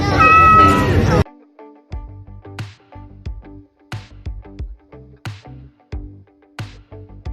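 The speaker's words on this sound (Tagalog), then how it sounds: "Pusa pala. Takot siya sa pusa." A cat meows repeatedly in short, close, plaintive cries with brief pauses between them, following a moment of louder noise at the start.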